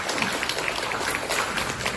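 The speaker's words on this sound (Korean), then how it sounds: "동의하시면 여기서 박수 한번 주시죠." Dense clapping from a seminar audience on real-estate prospects, a crowd of hands applauding steadily and evenly for a short stretch, fairly close with no talk over it.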